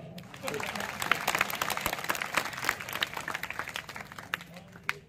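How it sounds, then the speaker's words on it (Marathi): Women in an audience at a village development-works inauguration clapping, a dense ragged burst of applause from a crowd, moderately near, sustained for several seconds with a voice talking over it. "महिलांची जोरात टाळ्या वाजल्या पाहिजे."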